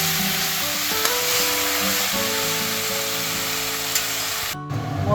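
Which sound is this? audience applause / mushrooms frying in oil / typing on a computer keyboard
mushrooms frying in oil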